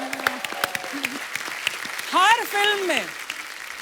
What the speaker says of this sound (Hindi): पहले तो जोरदार तालियां।